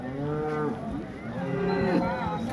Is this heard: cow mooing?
yes